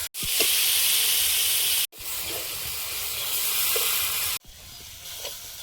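Drumstick pieces and potato go into a sizzling spice masala, producing a steady, close hiss of frying that breaks off briefly a couple of times, with no talking.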